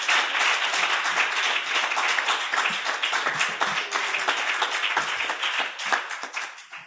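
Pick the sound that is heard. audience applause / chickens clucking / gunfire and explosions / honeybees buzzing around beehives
audience applause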